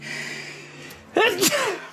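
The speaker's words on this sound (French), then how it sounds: "je vais éternuer." A single sharp sneeze bursts out close by, a quick intake then an explosive release, following a moment of quiet background hum.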